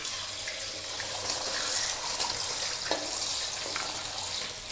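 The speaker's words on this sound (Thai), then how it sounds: "กระทะร้อนน้ำมันร้อน การก็จะใส่ในส่วนของไข่ลงไปก่อนเลย" Eggs frying in hot oil in a wok while stir-fried glass noodles are cooked: a steady, close sizzling hiss with scattered small crackles and pops, and no talking.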